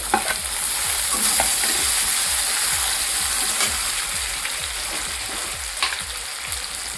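Onions, garlic and tomatoes sauté in a pan for egg bhaji, with a loud, continuous sizzle and occasional scrapes of stirring, heard close up and alone.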